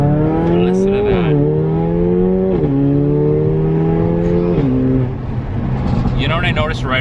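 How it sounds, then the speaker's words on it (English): A Mercedes CLA45 turbocharged engine revs hard on city streets, its loud close-up drone climbing in pitch through several pulls with quick drops at each gear change before settling into a rougher rumble. "you can hear the turbo spool up so much more than my car"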